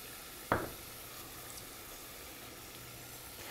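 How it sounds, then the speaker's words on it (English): Onions sweat in a pot with scallop juice, a soft, steady sizzle and hiss running throughout, marked by a single sharp clack near the start and no voices. "you're going to sweat these onions out"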